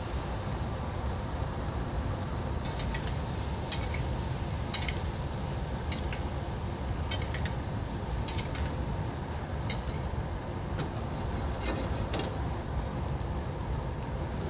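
Steady, soft sizzling of butter as sockeye salmon is basted in a hot pan, a continuous crackling hiss with occasional light spoon scrapes, fairly quiet and without talk.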